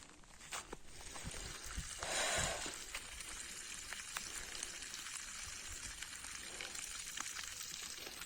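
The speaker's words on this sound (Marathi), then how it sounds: "हे त्याचा पाण्याचा आवाज" Faint, steady hiss of flowing water running continuously, with a brief louder surge partway through.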